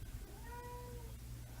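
House cat lets out one long, wavering meow that rises and falls, heard a little way off against a low constant background hum, with nobody speaking.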